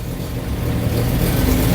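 Engine of a Morris 2200 barn-find car running steadily and close by, a continuous low rumble that swells slightly louder toward the end as the car creeps along.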